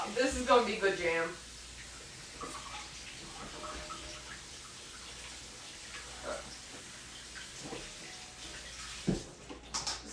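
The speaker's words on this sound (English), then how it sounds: "Just give it a good little rinse off." Strawberries being rinsed under running tap water, a soft steady stream with light splashing throughout, quiet and close, with a few clinks near the start.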